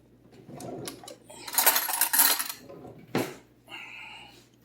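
Metal cutlery clinks and rattles in a kitchen drawer as a spoon is picked up, with a rush of jangling followed by one sharp clink.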